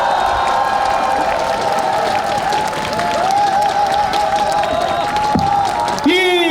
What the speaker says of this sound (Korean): 큰 박수로 만나 뵙겠습니다.